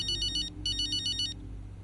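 Phone ringing in the racing video game F1 25, two short bursts of a bright trilling electronic ringtone over a low steady background hum.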